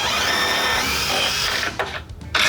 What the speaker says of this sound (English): I can pre-drill that first hole.